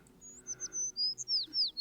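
Several birds chirp in a quick sequence of short, high, sweeping tweets, fairly close and clear over a quiet background.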